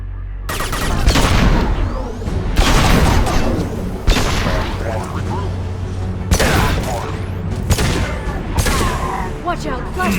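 Mass Effect 2 firefight with flashbang grenades going off amid sustained gunfire: repeated loud bursts and booms in a dense, continuous barrage, with voices shouting over the combat.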